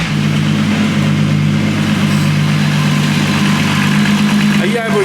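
A VW Golf R32 with a turbocharged VR6 engine running steadily at idle, a loud, constant low drone with strong harmonics throughout, close by.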